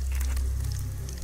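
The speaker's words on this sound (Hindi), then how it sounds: "अब कढ़ाई चढ़ा के तेल भी गरम कर लिया, फिर खड़े मसालों का तड़का।" Whole spices hit hot oil in a kadhai (wok) outdoors and crackle with a steady, close sizzle that holds for the whole brief moment, with no talking.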